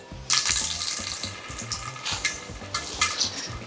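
Water splashes and trickles at a kitchen sink as moisture is drained out of a bowl of mixed vegetables, irregular close splattering bursts with no talking.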